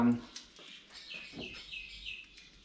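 Birds chirp and tweet in the background with short high calls, while a voice is heard nearby.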